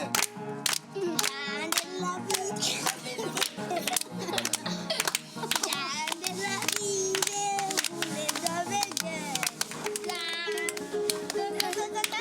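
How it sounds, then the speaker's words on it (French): A group of children clap along in quick repeated bursts, near and lively, while young voices talk and sing over the clapping. "Faut applaudir."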